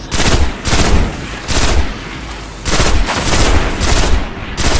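Gunfire in the Destiny video game: loud bursts of rapid shots in several separate volleys with short quieter gaps between them, close and dominant, no speech.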